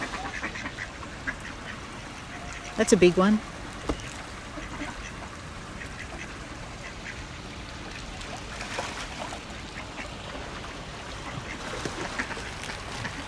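Ducks at a Japanese garden pond give a short cluster of close quacks, clear over a quiet background of trickling water, while a voice speaks briefly.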